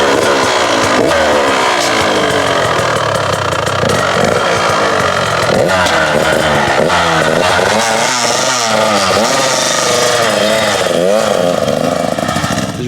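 A 150cc dirt bike ridden through desert sand, its engine buzzing loud and continuous with repeated rising and falling revs as the rider works the throttle, close throughout.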